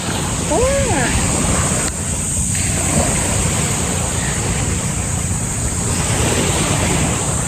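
Steady roar of sea surf with wind buffeting the microphone, continuous and fairly loud throughout, with a brief whistling tone near the start.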